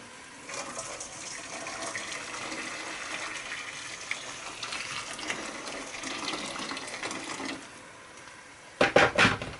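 Boiling water pours steadily into a seasoning pot for several seconds with a continuous gushing splash, then stops, followed by a few knocks and clatters.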